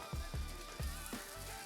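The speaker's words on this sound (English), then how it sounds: "It's sizzling quick." Chicken pieces hit hot oil in a wok that has not been preheated, giving a steady hiss broken by a few rhythmic low knocks, quiet and brief, with no speech.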